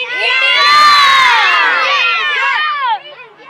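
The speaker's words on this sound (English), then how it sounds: "There you see the cheers are all very loud." Loud crowd cheering and shouting at a gathering of India supporters ahead of an India–Pakistan cricket clash, a dense sustained roar of many voices that drops away near the end.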